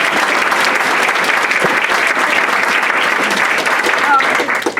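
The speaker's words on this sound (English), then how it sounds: "Now we can have applause." Audience applause fills the room at a ceremony after thanks to ticket buyers and sponsors, a dense steady clapping wash holding loud and even for about five seconds.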